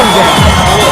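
A crowd at a fight event cheers loudly for the fighters in a brief, continuous burst of shouting and hubbub.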